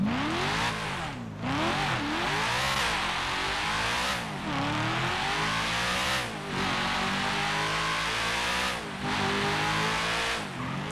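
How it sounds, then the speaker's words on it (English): A Camaro SS muscle car in GTA 5 drives up a street and back, its engine revving loud and close in rising and falling pulls between gear changes, with brief tire squeals. "But I'll let you hear it, then we'll get to modifying it. Just go up the street and back."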